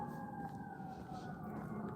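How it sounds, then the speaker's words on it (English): A fire engine siren sweeps steadily through a wailing tone, sustained and moderately distant over traffic rumble while a person walks outdoors under an open sky. "here comes a fire engine now"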